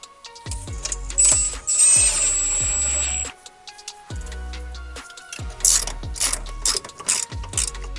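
A hand ratchet clicks in repeated bursts of quick strokes while unbolting a car's crash sensor during a battery relocation install, close and loud with short metallic pauses between pulls.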